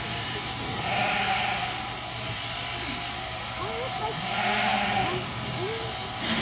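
Sheep bleating during shearing at a fiber festival, a few wavering calls rising over a dense, steady hum of clippers and crowd noise, with a voice talking throughout.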